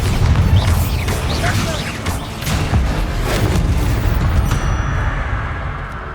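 Bombarda, an explosive spell in the game Hogwarts Legacy, goes off with a loud, close boom and crackling burst amid dense, continuous combat noise, the rumble trailing away over several seconds.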